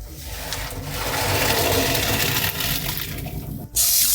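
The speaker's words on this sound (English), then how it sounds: "we're gonna drain out all the pasta water." Pasta water from cooked macaroni pours out into a sink, making a loud, continuous rush of water. It swells briefly near the end and then ends in a bright splashing burst, with no voices heard.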